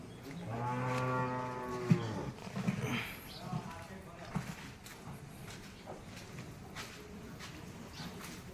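Cows at a gaushala cattle shelter low loudly in a long drawn-out moo, followed by fainter lowing and shuffling, while people talk nearby throughout.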